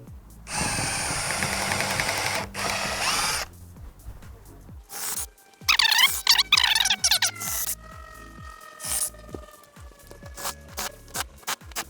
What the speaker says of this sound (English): I'm able to just mount it right here on the edge of the table and drill down